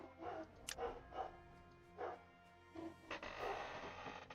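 Dogs bark at a front door: several short, muffled barks in separate bursts, heard from a distance behind a quiet background with no speech.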